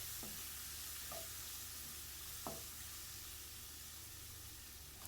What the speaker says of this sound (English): Stir fry the onions until you see that its color begins to change.